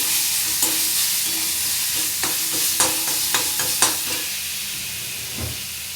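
Chili powder fries in a pan with a constant, even hiss, broken by a handful of sharp spatula scrapes and knocks as it is stirred, close by and without speech.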